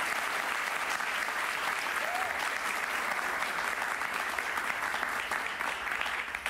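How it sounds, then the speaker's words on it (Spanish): Sustained applause from a large audience fills the whole stretch, a dense, even wash of clapping with no break, loud and close throughout. "Un aplauso para ellos."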